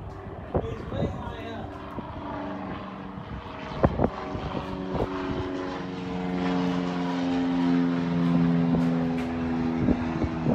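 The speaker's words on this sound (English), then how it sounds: "Oh, look, airplane." A propeller airplane flies over an outdoor hangar area, a low droning hum that slowly builds, with someone talking over it and scattered clanks nearby.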